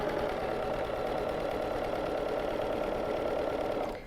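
A BERNINA sewing machine runs free-motion quilting stitches along a ruler, a steady close whirring hum of rapid needle strokes that stops abruptly near the end.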